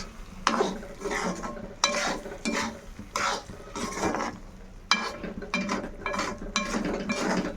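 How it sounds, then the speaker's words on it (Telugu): A spoon scrapes through a cashew paneer curry in a pan in a series of close, rhythmic stirring strokes, roughly one per second, over a light sizzle. "నేనైతే ఇట్లనే కలుపుతూనే ఉంటాను"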